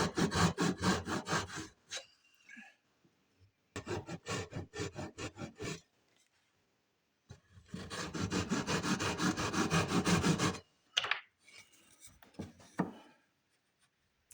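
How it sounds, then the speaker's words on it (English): Wood being cut at a 30-degree angle with a jigsaw and a small hand saw, heard as fast, rhythmic, rasping strokes in three long bursts separated by pauses, close and loud, with a few scraping handling noises at the end. "I use my jigsaw on one cut and Temple Tools a little demon on the others."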